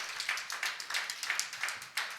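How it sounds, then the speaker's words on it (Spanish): Church congregation clapping during a Sunday service, a fairly quiet and steady rhythmic clap in even beats throughout, heard with no talk over it. "Dale un aplauso a Jesucristo porque Él está presente en este momento."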